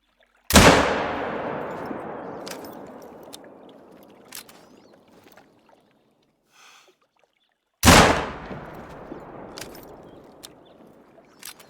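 Two loud hunting-rifle shots in Hunter: Call of the Wild, each a sharp crack followed by a long rolling echo across open wilderness, several seconds apart, with faint clicks in between.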